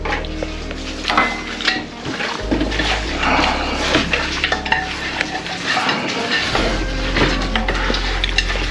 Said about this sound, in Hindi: ये सब डाल के अब इसको मिक्स करेंगे